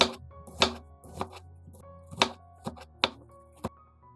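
Knife slicing a red onion very thinly on a cutting board, a slow, uneven series of crisp, close chops with short pauses between cuts and no talking.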